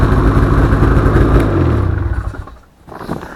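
A warmed-up two-stroke motorcycle engine runs loud and close with a buzzy, rattling idle, then the revs drop and the sound dips briefly before the engine picks back up.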